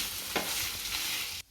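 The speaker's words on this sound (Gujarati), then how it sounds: "આ બધાને 2 થી 3 મિનિટ સુધી સાતળી લેશું" Leftover roti pieces sauté in a pan with vinegar and sauce, a steady loud sizzle with one brief stirring scrape, cutting off abruptly at the end.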